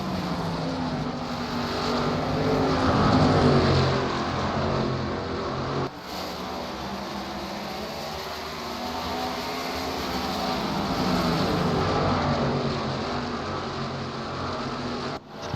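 Stock cars racing around North Wilkesboro's short oval, engines roaring in a steady continuous wash of noise with a brief dip partway through, loud and sustained throughout.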